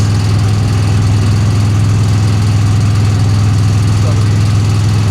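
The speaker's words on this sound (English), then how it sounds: "God, the engine is making so much noise" A 1966 Chevy Impala engine drones loudly and steadily while cruising on a highway, a deep constant hum with rumbling vibration that holds unchanged throughout.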